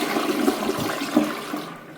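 A vacuum-assisted toilet in the USA flushes, a short forceful gurgling suck of water draining out of the bowl, close and loud, fading at the end.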